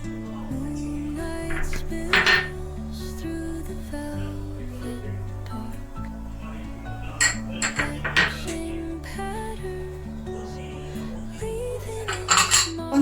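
Chopped capsicum, onion, corn and green chilli being mixed in a bowl, with repeated clinking and scraping of a spoon against the dish in bursts over a low steady background.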